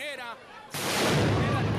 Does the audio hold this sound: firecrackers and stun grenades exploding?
yes